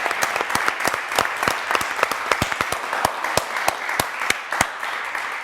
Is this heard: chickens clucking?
no